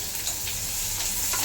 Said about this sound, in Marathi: तेलावरती कांदा चांगला व्यवस्थित परतवून घेते